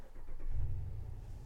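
Dodge RAM 1500 Laramie Classic with a 5.7-litre HEMI V8 idling, a steady low rumble that swells slightly and stays fairly quiet, heard alone without talk.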